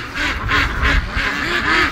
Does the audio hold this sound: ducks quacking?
yes